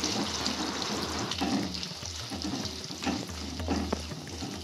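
Onions frying in oil in a kadai, a dense steady sizzle close up with scraping stir strokes breaking through now and then.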